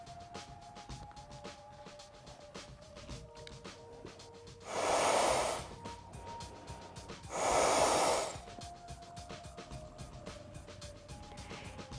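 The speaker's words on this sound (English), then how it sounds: "Next, I will demonstrate mouth-to-mouth breathing." Two long, breathy exhalations into a Practi-Man CPR training manikin during a mouth-to-mouth breathing demonstration, a few seconds apart, close and fairly loud over a low, steady background.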